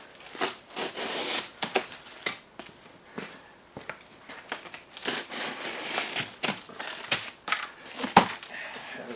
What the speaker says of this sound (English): I'm just going to cut this box right open because I don't need it